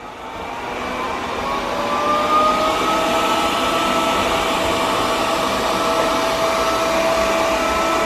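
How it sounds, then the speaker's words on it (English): A Proscenic 790T robotic vacuum cleaner runs in mopping mode, giving a steady whirring motor hum with faint tonal whines that rises in the first two seconds and then holds constant throughout, close and alone. "So let's go ahead and power this on. And let's start mopping and see how it does."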